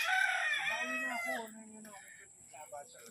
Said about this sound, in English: He's got some chickens, game roosters.